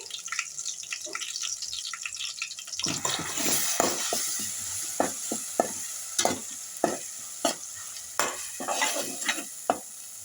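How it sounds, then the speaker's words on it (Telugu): Masala paste for a village-style chicken curry sizzling in a pan; quiet at first, then louder frying with repeated scraping stir strokes in a steady rhythm, close up. "ఇదంతా వేసుకొని మంచిగా వేగనివ్వాలి అంటే కొంచెం కలర్ చేంజ్ అవ్వాలన్నమాట"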